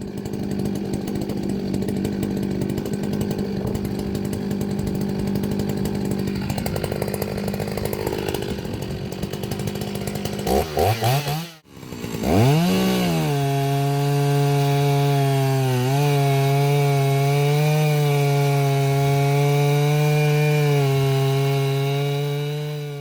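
A small Makita chainsaw runs loud and close throughout, revving and cutting through wood, dipping briefly mid-clip before settling into a steady high idle.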